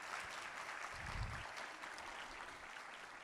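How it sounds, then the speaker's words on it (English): Audience applause at an educator of the year celebration, a soft, distant spread of clapping sustained throughout, with a short low thump midway. "Let's give her another round of applause."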